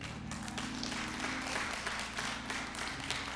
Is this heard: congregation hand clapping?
yes